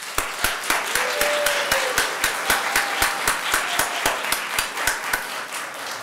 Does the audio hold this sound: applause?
yes